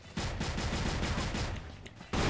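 Rapid bursts of gunfire in the shooting game CrossFire crackle in quick succession, a sustained volley of shots followed by a brief pause and another burst.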